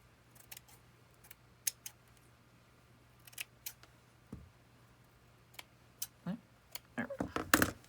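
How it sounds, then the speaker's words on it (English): Scissors snip fabric to size at a craft table, with scattered soft clicks and isolated cuts at first, then a quicker cluster of close, crisp snips near the end. "I'll just cut it to size."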